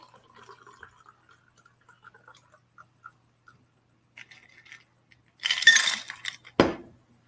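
Cachaça cocktail poured from a shaker into an old-fashioned glass: faint clinks early on, then a short burst of liquid and ice splashing into the glass, followed by a single sharp clink.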